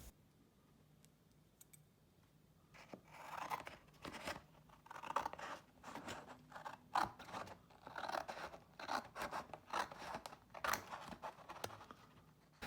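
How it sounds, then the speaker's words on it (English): Repeated scissor snips and rustling paper as photos are cut out for a model railroad scene, close up, in irregular bursts of cutting with brief pauses, no talking. "Next I have to cut out the photos."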